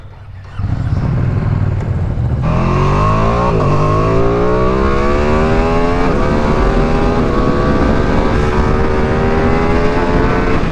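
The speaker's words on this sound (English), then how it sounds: "let's have a lap from Monte Blanco on the Streetfighter V2" Ducati Streetfighter V2 motorcycle lapping a race track, its engine loud and close, rising through the revs with steady harmonic climbs and brief drops at gear changes, continuous throughout.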